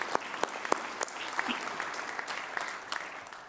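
Audience applause at an indoor finance and housing panel event, a dense steady patter of many hands clapping for the full stretch, moderately loud and heard on its own with no talking over it.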